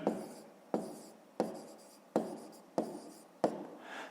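Fractions written by hand on paper, heard as a regular series of about six crisp pen taps, each followed by a fading scratch, close and soft, with no voices.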